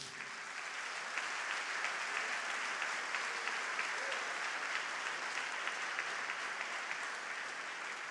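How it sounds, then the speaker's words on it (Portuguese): Church congregation applauding the Lord, a continuous, even roar of many clapping hands held at a steady level throughout, somewhat distant and soft, with no speech over it. "Então aplauda o Senhor em nome do Senhor Jesus."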